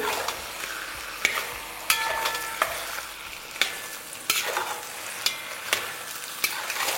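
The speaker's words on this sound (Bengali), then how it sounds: "জাস্ট ফ্লেমটা হাই করে এটাকে ভালো করে কষতে থাকুন" Mutton being stir-fried on a high flame for a Bengali mutton curry: a continuous close sizzle broken by regular scraping clacks of a spatula against the pan, with no talk.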